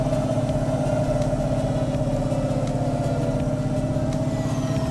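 Several car engines in the video game Cloudpunk drone and rumble together at a steady pitch, loud and continuous with no voices.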